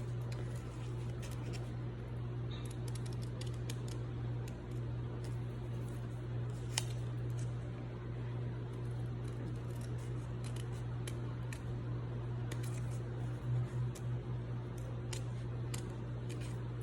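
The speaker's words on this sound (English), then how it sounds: "you got to really control your scissors, because if you cut through, you're gonna have to start all over again." Scissors snip through paper while papel picado is cut, with many small, quiet clicks and slices scattered unevenly over a steady low hum.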